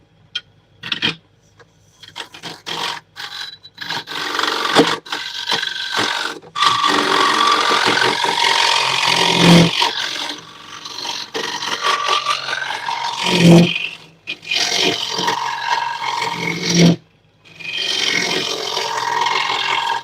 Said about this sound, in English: Turning a hollow form on a side grain.